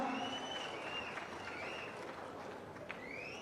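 A crowd at a political gathering gives a burst of applause, quiet and somewhat distant, mixed with crowd noise and faint whistles and not clearly separated from the background.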